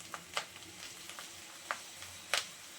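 Spice paste and slit green chillies fry with onion in a pan, giving a faint, soft sizzle broken by scattered light crackles and pops.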